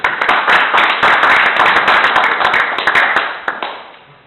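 Sustained applause from an audience at a town council meeting, dense clapping that holds steady for several seconds before thinning out toward the end.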